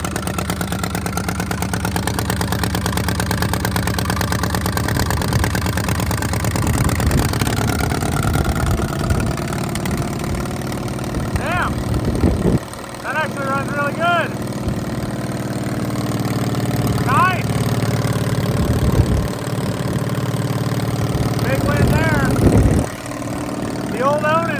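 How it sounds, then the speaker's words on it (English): An engine-driven welder on an old truck, an IH Loadstar crewcab parked for 30 years, idles loud and steady with a mid-pitched rumble. A voice speaks briefly partway through. "The welder runs."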